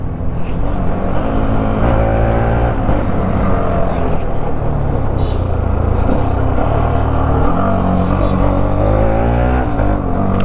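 A Bajaj Pulsar NS200 BS3 motorcycle fitted with a slipper clutch accelerates hard in a single gear on a Delhi road. The loud, close engine note climbs in pitch in repeated revving pulls under constant wind rush.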